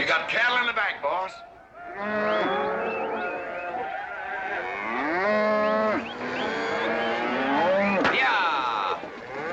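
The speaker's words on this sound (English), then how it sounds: "You got cattle in the back, boss." Cattle in the back of a truck moo repeatedly in long, overlapping lowing calls, loud and close, with rumbling background noise and brief voices.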